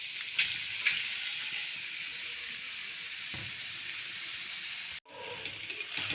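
Green pea paste sizzles and fries in a pan for Masala Sabji Paratha, a steady broad hiss with a few soft stirring scrapes, then a sudden short break before the frying resumes at the end.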